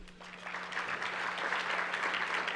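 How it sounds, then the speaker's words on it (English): An audience claps for special guests at a trade and economy event, a steady, moderately close ripple of applause lasting a few seconds with a faint constant hum underneath. "So a round of applause for all of our special guests here with us today"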